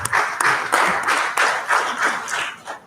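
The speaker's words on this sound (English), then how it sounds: "He will join us, but you may clap for him in absentia." An audience at the 2021 annual summit of political parties and stakeholders claps for Dr. Adekunle Ogumola in a loud, surging round of hand clapping. It swells in waves and tapers off at the end, with no speech over it.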